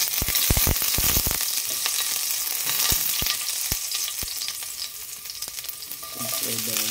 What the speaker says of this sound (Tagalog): nagpapainit na po tayo ng mantika dun mga koragon